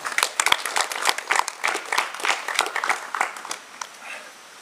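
An audience applauds a slam poet at a cabaret show, with dense, steady clapping from a crowd that runs through the whole stretch and thins slightly toward the end.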